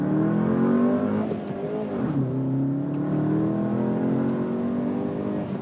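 Skoda Octavia vRS 230 sedan accelerating hard, its engine note climbing steadily in pitch, dipping briefly at a gear change, then rising again, loud and close from inside the cabin.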